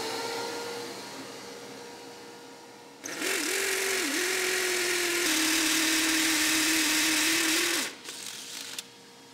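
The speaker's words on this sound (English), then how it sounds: "All right, we're gonna get our vacuum going." A workshop vacuum switches on after a quiet stretch, roaring with a steady high-pitched motor whine for about five seconds close by, then shuts down and winds away.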